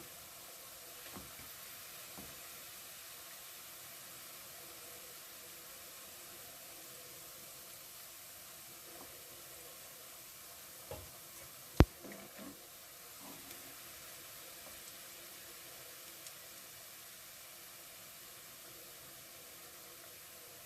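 Plantain slices frying in hot oil give off a soft, steady sizzle with a few faint pops and crackles, one sharper crackle standing out partway through, with no one talking.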